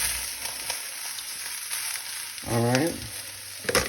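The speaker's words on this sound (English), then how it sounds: "we're gonna add the onions, the chopped onion, and all of the bok choy" Chopped onion and bok choy hit a hot, oiled pan for a chicken and udon stir fry, giving a steady close sizzle throughout. A voice briefly speaks over the frying partway through.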